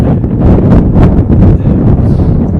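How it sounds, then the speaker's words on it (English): Strong wind roars and buffets the microphone at an outdoor high school baseball game between Strasburg and Brush, a loud continuous rumbling gust with no voices. "The wind is out of control once again."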